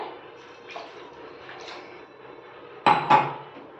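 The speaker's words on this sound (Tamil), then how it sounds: "குழம்புக்கு தேவையான தண்ணி சேர்த்துக்கலாம்." Water pouring into a pot of mango curry with a steady splashing wash, then two sharp metallic clinks near the end.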